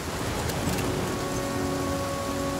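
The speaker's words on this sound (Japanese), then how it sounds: "いや、雨降ってきた。" Steady rain pours down in the survival game The Flame in The Flood, a dense, even hiss of drops striking surfaces that holds constant throughout with no voices over it.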